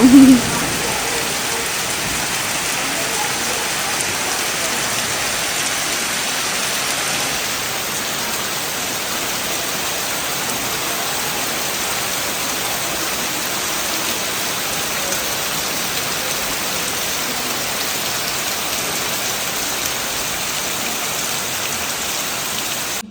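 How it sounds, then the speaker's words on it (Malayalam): Steady rain pours down as a constant, even hiss of falling water, loud and unbroken throughout. "പെട്ടെന്ന് മഴ പെയ്യുന്ന ഒരിക്കലും പ്രതീക്ഷിച്ചല്ല കേട്ടോ"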